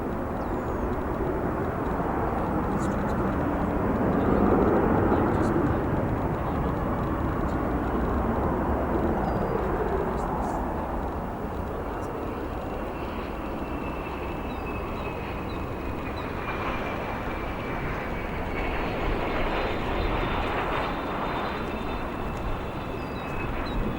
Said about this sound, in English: Airbus A350-900 that you guys just saw land.